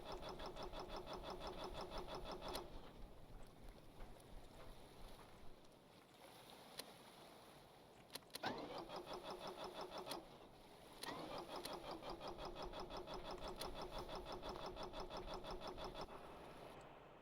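An engine runs in Stormworks with a buzzy, harmonic-rich drone that cuts out and restarts several times, broken by brief clicks and gaps, faint and without speech.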